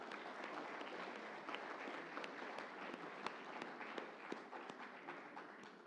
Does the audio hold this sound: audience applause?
yes